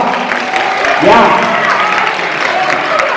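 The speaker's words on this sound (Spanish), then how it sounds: "fuerte aplaudimiento a los compañeros" Classroom applause breaks out for classmates after a group performance, a steady patter of clapping hands lasting the whole stretch, with voices talking over it.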